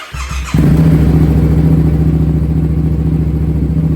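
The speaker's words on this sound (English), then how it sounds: "I'm just gonna start it and shut it off real quick" Yamaha XSR700 motorcycle, already warm, fires up with a brief starter whir then settles into a loud, steady close-up idle rumble that runs throughout without any talk.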